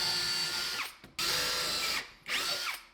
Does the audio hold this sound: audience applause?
no